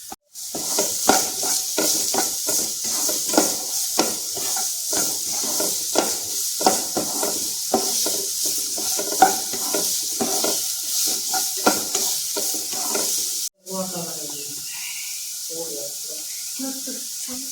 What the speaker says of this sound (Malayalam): അതിൻ്റെ പച്ചമണം പോണ വരെ നന്നായി വറുത്തെടുക്കുക